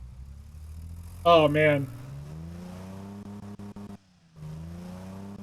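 A car engine with a double baffled exhaust in the BeamNG video game hums as a low, fairly quiet drone whose pitch slowly rises, cuts out briefly, then returns, with a short spoken exclamation early on.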